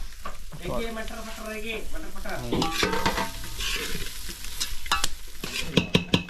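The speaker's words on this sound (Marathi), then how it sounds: "असे सगळे स्पायसेस मंद आचेवर भाजून घ्यायचे" Coconut, dried chillies and spices dry-roasting in a pan over low heat, with a constant scrape and rattle of stirring and light sizzle, and speech in the background; sharp utensil knocks near the end.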